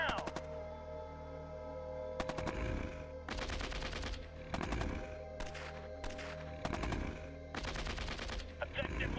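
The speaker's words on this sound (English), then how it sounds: "Trying to attack him with a machine gun." Machine gun fire in the strategy video game Shadow Empire, several loud rapid bursts separated by short pauses over a steady low game hum.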